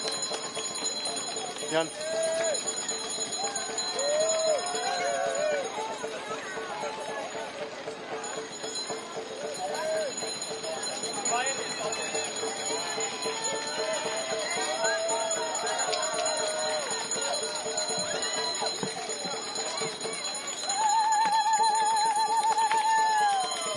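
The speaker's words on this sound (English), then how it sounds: "The bells are ringing." Supporters ring bells beside the course at the ANTA Guanjun Hong Kong 100 trail race near Sai Kung, a steady ongoing jangle beneath crowd noise and a commentator's talk, with a louder burst of ringing near the end.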